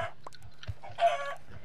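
A chicken clucks in the video game Minecraft, a few short clucks with one louder squawk, close and clear, with no talking.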